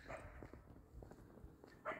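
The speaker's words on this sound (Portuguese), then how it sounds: "Tem uns cachorros no meio das plantações de pinos ali, só." Dogs bark faintly and far off among a pine plantation, a few scattered yaps and whimpers carrying over quiet outdoor ambience.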